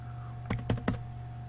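Three quick key taps on a computer keyboard while typing in Notepad, close and clear over a steady low electrical hum, with no one speaking.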